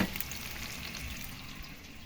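Water spinach (kangkong) and tofu sauté in a pan with a steady close sizzle and light stirring scrapes, no voices.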